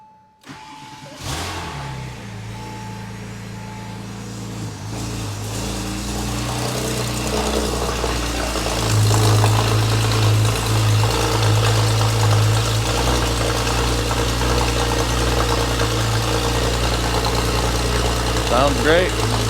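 Porsche engine close by cranks briefly, fires up and settles into a steady, loud idle that grows slightly fuller as it runs.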